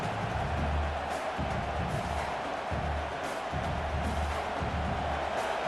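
Stadium crowd noise from the College Football 26 video game, Wisconsin versus Oregon, a steady broad roar of many voices holding at a constant level with a low rumbling undertone throughout.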